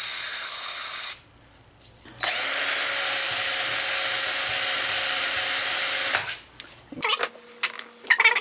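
Brake cleaner sprayed in one long, loud, steady hiss of about four seconds into the rear disc brake of a Honda Accord, preceded by a brief burst and followed by clanking handling noises.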